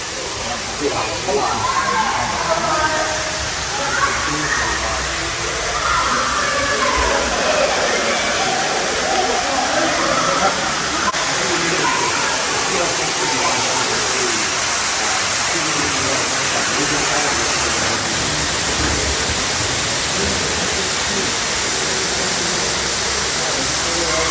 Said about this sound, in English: We're walking down a waterfall.